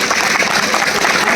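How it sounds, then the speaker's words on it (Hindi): An audience bursts into clapping at a gathering, a brief, dense and loud patter of many hands throughout. "उसके लिए आप सब ताली बजाएं।"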